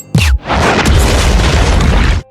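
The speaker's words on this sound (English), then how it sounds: "After a loud explosion" A loud, close explosion: a sharp burst followed by a deep rumbling roar that sustains for about two seconds before cutting off.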